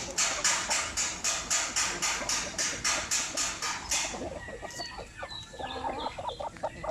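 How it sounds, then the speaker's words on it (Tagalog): Basilan and Zampen native chickens waiting for feed, with rapid rhythmic clucking pulses close by for several seconds, then scattered softer calls and faint rustling noises as the flock settles. "So ito yung ating ibang mga manok naghintay ng pagkain."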